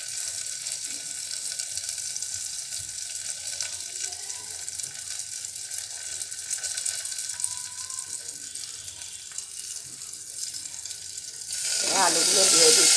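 Mustard oil with tempering spices sizzling in a pan gives a steady, close hiss throughout, then swells into a louder, fuller crackle as potatoes go in at the end.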